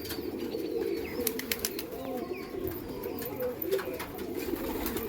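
Pigeons coo softly in a low, rolling rhythm, with a few sharp flutters or chirps on top, all fairly faint and close against quiet background noise.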